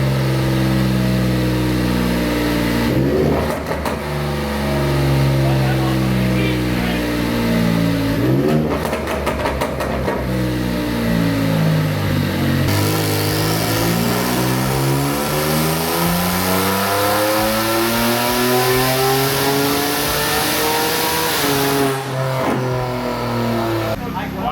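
A single-turbo Kia Stinger build on a dyno revs hard through rising and falling sweeps, engine tone climbing steeply with gear changes and brief lifts, loud and close, while people talk over the noise.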